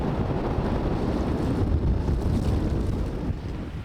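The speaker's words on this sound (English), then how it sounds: "the wind is coming from the east and it's gonna blow us onto the shore" A strong east wind buffets a boat anchored off the eastern side of Taha'a, a loud, steady low roar of gusting air rumbling against the microphone with no voices.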